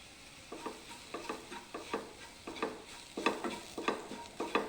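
Chili powder being stirred into a chickpea curry in a pan: a steady run of about a dozen close scraping strokes with light sizzling underneath, no voices.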